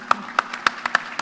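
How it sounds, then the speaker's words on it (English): An audience at a marketing conference claps briefly for a presenter, a short run of distinct, evenly spaced claps from a small group, fairly close and sharp. "clap for Elvin?"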